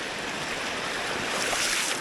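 Shallow small river rapids rushing and splashing in a steady broadband wash, close and continuous, with a slight surge toward the end and no voices.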